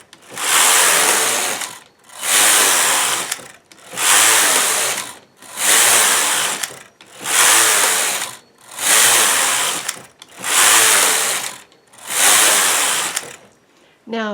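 A knitting machine with its ribber attached knits a ribbed band as the carriage is pushed back and forth in eight regular passes. Each pass makes a loud rasping, clattering sweep, and short near-silent pauses fall between the passes.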